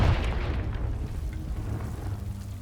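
A Confringo spell explosion in the Hogwarts Legacy video game goes off with a heavy booming burst at the start, then settles into a low, rumbling roar that lingers for a few seconds with no voices.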